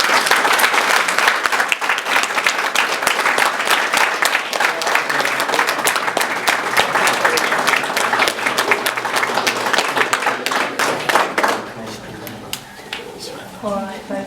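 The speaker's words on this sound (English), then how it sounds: "We'll have a round of applause." Wedding guests applaud the newly married bride and groom with dense, steady clapping that holds loud for about eleven seconds before thinning out, while a voice speaks near the end.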